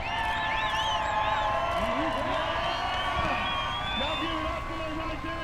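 A crowd at an Icelandic Formula Offroad event in the U.S. cheers and whoops steadily over a continuous droning, whining background for several seconds.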